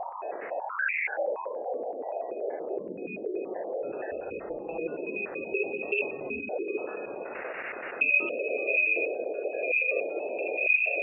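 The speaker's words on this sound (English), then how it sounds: "collected frequency data that created an audio clip sounding just like that old dial-up modem" Warbling electronic tones and a steady high whine, squealing and chirping much like an old dial-up modem handshake.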